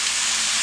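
Bowtie pasta tossed into a hot stir-fry pan with vegetables, giving a steady, close, broadband sizzle that holds evenly through the brief moment with no voices.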